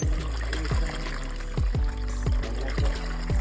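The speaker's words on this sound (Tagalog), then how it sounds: "naglagay lang kami ng tubig sa palanggana" Water poured into a basin in repeated splashing bursts about every half second, close and steady, with no talk.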